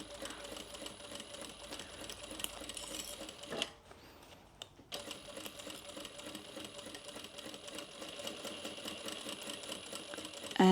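A sewing machine back stitching a fabric coffee sleeve runs in a steady, fast mechanical patter, pausing briefly for about a second before resuming, close and moderately loud.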